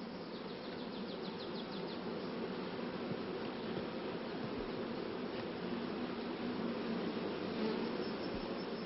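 Honeybees hum and buzz around an open hive during queen cell work, a faint continuous drone of many insects with no voices present.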